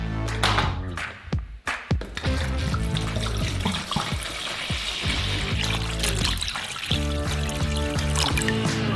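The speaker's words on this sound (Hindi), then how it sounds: "कटोरे में पानी डालते हैं," Water pours steadily into a bowl, a continuous splashing gush with a few brief clinks at the start, up close and without talk.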